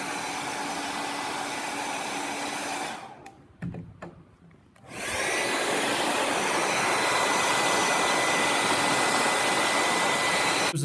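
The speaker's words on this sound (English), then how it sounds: "Use a hair dryer to dry that completely before you move on." A hair dryer blows steadily on wet paint on a wood project, a loud continuous whooshing roar that cuts out for about two seconds, leaving brief clicks, then starts up again and runs on.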